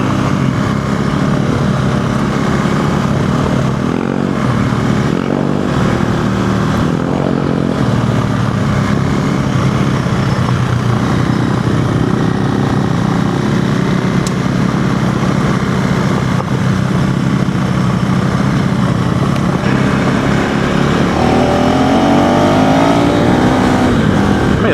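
Honda CRF300L dual-sport motorcycle engine revving hard and pulling through its power band, a loud continuous roar that climbs and holds on an open road, with no voices over it.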